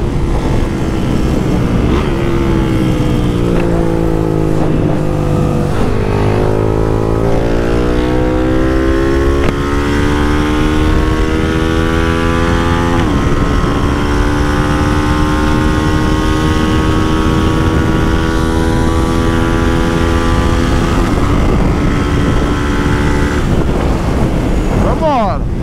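A Start 230 motorcycle engine runs loud and continuous on a street, with rising and falling pitch sweeps as it revs and accelerates, wind buffeting the microphone throughout.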